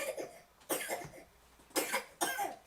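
A sleeping man coughs several times in short bursts, close and fairly clear against a quiet background.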